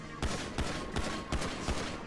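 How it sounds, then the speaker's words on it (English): A quick series of about six gunshot pops fires into the air in a steady rhythm, crisp and close, with a processed game-like sound, from GTA 5 Online. "Gunshots fired in the air. Pop, pop, pop, pop, pop, pop."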